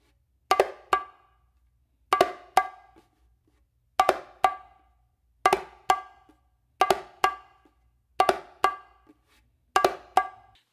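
Bongo flam pattern mixing open tones and slaps on the macho drum, played as seven crisp paired hits separated by regular pauses, close and clean with no voices.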